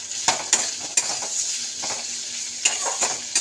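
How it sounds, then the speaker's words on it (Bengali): Chopped onions fry in a hot pan with a steady crackling sizzle, broken by several sharp clicks and scrapes of a spoon stirring against the metal, close and fairly loud. "পেঁয়াজটা একটু ভাজা ভাজা হোক"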